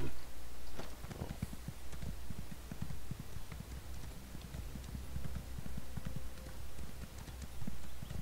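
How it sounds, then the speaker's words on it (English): Horse hooves clip-clopping in Elder Scrolls Online, a fairly quiet, steady rhythmic trot over a low ambient game background. "Horse."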